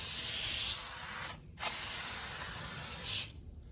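An IK Foam Pro 2 handheld pump sprayer hisses foam onto car tires in two close bursts, a long steady spray, a brief cut-off, then another sustained hiss that stops abruptly.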